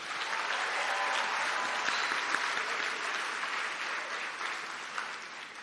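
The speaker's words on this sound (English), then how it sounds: "give yourselves a big round of applause" Sustained applause from a commencement crowd at a community college graduation ceremony fills the hall, a dense, even roar of many hands clapping that holds steady before tapering slightly.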